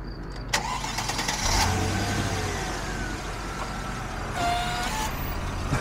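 A car's engine starts up after its water has been topped off and the oil checked, with a loud cranking burst followed by a steady, close idle and a few clanks around it, no one talking.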